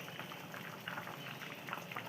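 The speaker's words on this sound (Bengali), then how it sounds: "ছোলার ডাল ফুটছে এদিকে।" Chana dal (split chickpeas) boiling in a pot in a home kitchen, steady bubbling and popping at close range, continuous and moderately quiet, with no talking.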